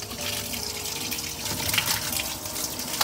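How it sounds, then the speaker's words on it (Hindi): Goat liver is washed under running water in a kitchen, with a steady, fairly loud gush and splash and small bursts of sloshing as the meat is handled. "तो यहाँ पे मैंने ली है एक बकरे की कलेजी, जिसे हम अच्छी तरह से वॉश कर लेंगे।"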